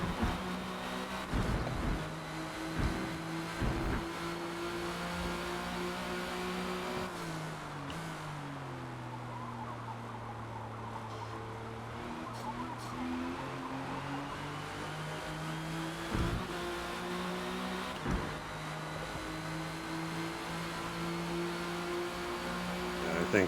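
A 1997 Porsche GT1 race car at Mugello in Forza Motorsport drones loudly and continuously, its engine pitch rising through gears, then dropping sharply on several shifts, with brief tire squeal and occasional talk underneath.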